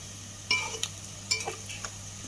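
A utensil scrapes and taps against a pan as onions and chillies are stirred in oil for Andhra fish curry, a few sparse close strokes over a steady low hum and faint sizzle.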